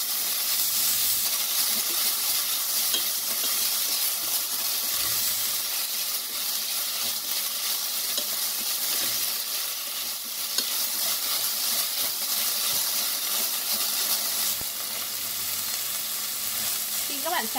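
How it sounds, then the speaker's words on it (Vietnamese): Seasoned pork rib meat, with MSG and salt, is stir-fried in a pan, giving a continuous close sizzle and hiss with light stirring scrapes throughout. "đảo đều cho phần thịt săn lại"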